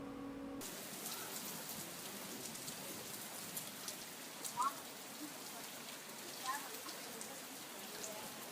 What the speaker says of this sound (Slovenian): me je ujel dež in sem se skril pod eno naključno streho